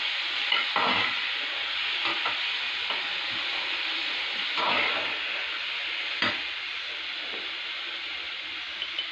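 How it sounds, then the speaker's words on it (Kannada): Chopped onions fry and get stirred in a pan for a village-style country chicken sambar, a steady close sizzle broken by scraping stir strokes every second or two. "ಈಗ ಹಚ್ಚಿಟ್ಕೊಂಡಿರುವಂಥ ಈರುಳ್ಳಿನ ಹಾಕೊಂಡ್ಬಿಡಿ"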